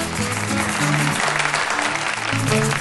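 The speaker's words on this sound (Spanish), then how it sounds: "Aplausos. Aplausos." Dense, steady applause from a crowd at a reggae awards ceremony, loud and continuous with tonal music or cheering mixed underneath throughout.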